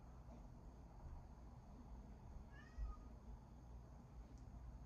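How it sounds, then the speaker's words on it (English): A house cat lets out a single faint meow partway through, almost buried under a steady background hiss. "There's my cat."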